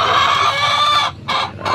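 Several chickens cluck and chatter together at close range, a busy continuous flock sound with a couple of brief dips.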